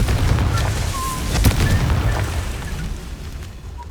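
Confringo spell blast in Hogwarts Legacy, a loud booming burst with rumbling low-end debris that rolls on for several seconds, one sharp crack near the middle.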